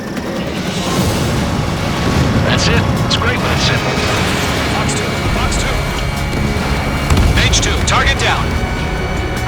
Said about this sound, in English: bomber down. Nice going, Mage 2